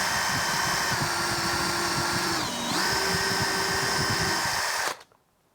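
A power drill whines steadily and loudly while boring a pilot hole during work on a new building, its pitch dipping briefly under load midway before the motor cuts off abruptly near the end.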